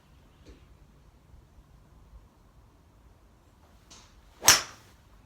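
A single sharp strike from a Benross Type R Compressor fairway wood on a golf ball cracks out near the end, preceded by a faint swish and quiet surroundings.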